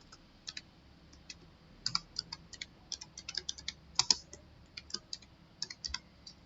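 Keystrokes on a computer keyboard while entering invoice labels in an Excel spreadsheet, quick irregular clicks in short bursts, close and fairly clear over a faint room hum.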